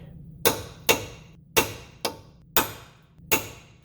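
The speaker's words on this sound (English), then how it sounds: "take a punch from the back and tap it, which we're going to do to help ourselves" Hammer tapping a punch against a seized lower ball joint bolt on a 2012 Subaru Impreza: six sharp metallic strikes at a steady, unhurried rhythm, close and clear with no talk.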